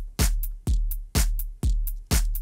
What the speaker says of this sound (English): So that's basically a 4-to-the-floor beat